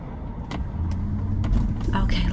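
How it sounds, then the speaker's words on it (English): Motor vehicles passing on a city street, a steady rumble of car traffic with a couple of louder pass-bys toward the end, under a low background murmur of voices. "So I'm just waiting for this traffic to clear."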